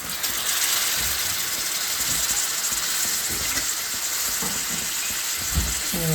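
Poha tipped into a hot pan on a gas stove, frying with a steady loud sizzle and hiss throughout and a few faint clinks of stirring.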